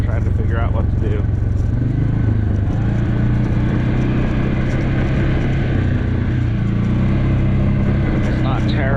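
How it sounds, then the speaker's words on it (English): Engine of a 2025 Can-Am Max 700XT side-by-side running steadily with a loud, continuous low rumble, its pitch rising and falling slightly as the throttle surges on a downhill stretch, close and unbroken throughout. "I think that throttle needs to be turned down just a hair. You can hear it surging a little bit there"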